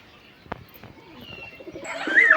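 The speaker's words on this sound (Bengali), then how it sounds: "আমি এখানে পাঁচটা পায়রা উড়িয়ে দিয়েছি দেখো এইমাত্র উড়ালাম" Pigeons coo and flutter as a small flock of five is released from a loft, a sharp wing clap early on and bird calls rising louder toward the end.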